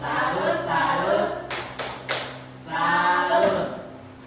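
A classroom of students claps along to the Tepuk Salut chant during a teacher-training lesson, with sharp bursts of hand claps mixed into loud group chanting voices.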